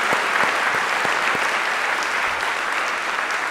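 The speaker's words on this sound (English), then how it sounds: "how about a round of applause for yourself for making this happen?" An audience at a 2014 Fast Pitch event applauds loudly and steadily, a dense wash of clapping that continues without a break.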